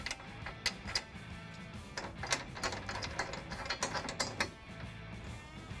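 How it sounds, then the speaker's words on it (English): Ratchet clicking as bolts are tightened on a trailer hitch fitted to a 2020 Toyota Tacoma, quick close bursts of sharp ticks in an uneven rhythm, quiet, with no talk. "we're just gonna tighten and torque all of our bolts to the manufacturer's specification"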